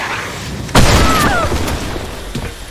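A grenade goes off in the shooter game Blackshot Revolution, a sudden loud boom with a brief debris rattle that fades away within a couple of seconds.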